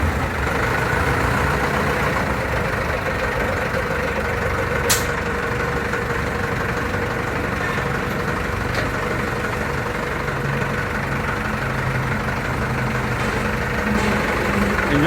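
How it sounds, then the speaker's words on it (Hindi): A Sojen China dumper truck's engine idles loudly and close for the whole stretch, a steady, heavy low rumble with constant mechanical clatter and a brief sharp hiss partway through, with no talking. "इंजन चेक करें।"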